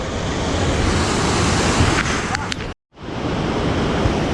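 Steady broadband roar of rushing water at Jogini Waterfall, loud and continuous, cut by a brief moment of silence before the roar resumes.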